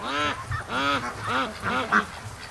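Muscovy ducks call repeatedly at close range, a run of about five or six raspy, harmonic bursts in uneven succession with no talking.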